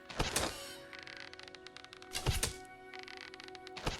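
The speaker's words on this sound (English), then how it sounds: "Pretty much just shoot the targets that are moving." Arrows shot at moving targets in an archery contest in Fable Anniversary, heard as two sharp twangs and thunks a couple of seconds apart over steady game ambience, with no talking.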